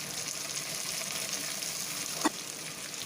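Onion, tomato, cloves, bay leaf and spices sautéing in a pan for pepper curry, with a steady soft sizzle throughout and a brief clink of a utensil near the end.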